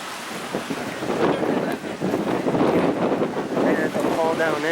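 Surf washing onto Manatee Beach, a steady broadband rush mixed with heavy wind buffeting on the microphone; a voice speaks briefly near the end.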